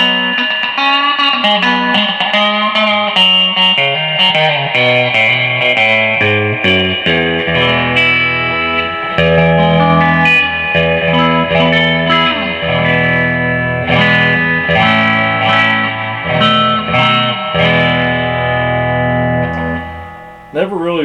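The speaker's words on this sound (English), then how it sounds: "put the pickups out of phase" Electric guitar with mini humbucker pickups wired out of phase, on a Lead II-style partscaster with low-output rail pickups, playing a loud, distorted, thin-toned passage of picked notes and chords that runs continuously for about twenty seconds.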